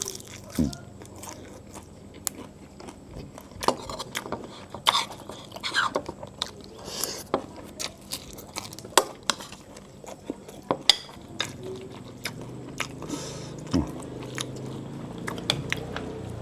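Stir-fried roselle leaves with fresh shrimp are bitten and chewed with repeated crisp crunches, close and fairly quiet, mixed with light clinks of cutlery on a plate.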